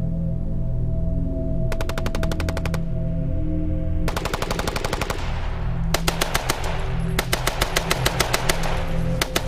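German machine guns open fire at 1,500 yards on British troops advancing toward woods near Loos in the First World War: several rapid, loud bursts of gunfire over a low, steady droning background.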